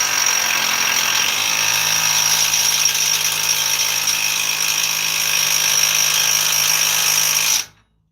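Power tool tightening a bottom bolt on a 2014 Dodge Ram 1500's suspension during an upper arm replacement, a loud, close, continuous high whine and rattle held for about seven seconds before cutting off abruptly.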